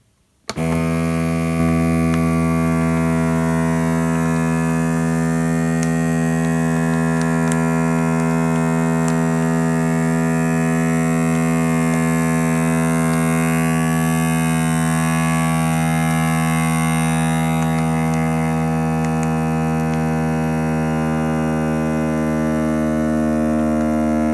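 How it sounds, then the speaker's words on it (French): A SylverCrest vacuum sealer working on a bag of hops sets up a loud, steady motor hum with a strong buzzing drone. It starts abruptly and runs unbroken for over twenty seconds, with no one speaking. "soit l'option qui va faire mise sous vide et soudure"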